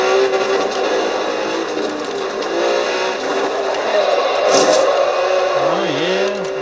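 A Lamborghini Veneno engine in the video game Forza Horizon 2 drones steadily at high revs, loud and continuous, with a brief tire squeal near the end.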